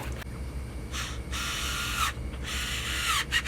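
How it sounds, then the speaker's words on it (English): Dummy screws being fitted into a drilled, countersunk knife handle: several bursts of scratchy, ratcheting mechanical noise with short pauses between them, close and moderately loud, and no talking. "I can go ahead and put them together with some dummy screws"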